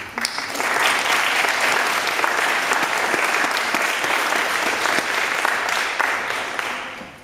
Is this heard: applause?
yes